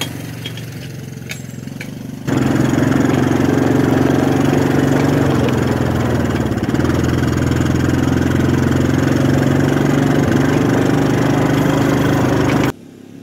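Small vehicle engine pulling a log arch trailer: a loud, steady droning engine that starts abruptly after a quieter stretch, holds an even pitch for about ten seconds, then cuts off.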